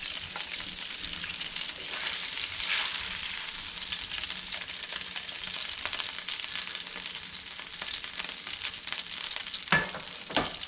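Speckled trout fillets and pan drippings of olive oil, lemon and garlic sizzle steadily in a hot pan, a loud continuous hiss with occasional louder pops near the end.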